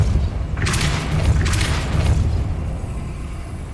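A Depulso spell cast in the Hogwarts Legacy video game lands as a deep, rumbling magical boom, with two bright bursts and then a sustained low roar that fades out.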